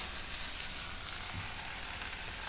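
Coriander seeds fry in oil over a low flame in a pan, giving a steady, close hiss and crackle with no talk.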